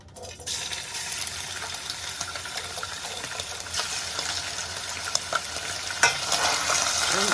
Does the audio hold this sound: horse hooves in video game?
no